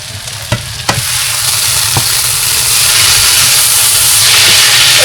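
Hilsa fish pieces fry and sizzle loudly in hot oil in a pan, a continuous steamy hiss with a few scraping stirs early on, growing slightly fuller toward the end.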